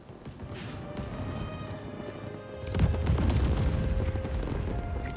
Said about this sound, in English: It's a lot of fireworks.